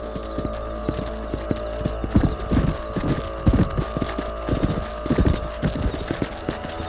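Steady rhythmic clip-clop of horse hooves trotting over a continuous low hum in the video game Red Dead Redemption, with scattered clanks and thuds mixed in.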